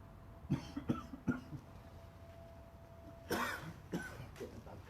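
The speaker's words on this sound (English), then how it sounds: "Getting a bad cough for the gentleman there" Several harsh coughs from one person, a quick cluster of three followed by two more a moment later, fairly close in a quiet room.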